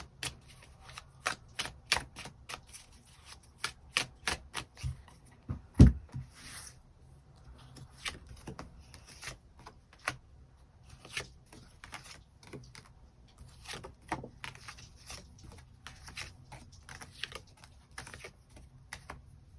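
Tarot cards are shuffled and laid down in a quiet room, giving irregular crisp snaps and flicks with a sharper slap near the middle, close and fairly soft, with no talking.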